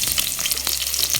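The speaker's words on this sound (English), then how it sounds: "so we're now sauteing our garlic" Garlic sizzles and crackles steadily in a hot pan for homemade hot pot, with a continuous close, fairly loud frying hiss and a few small stirring knocks, no talking.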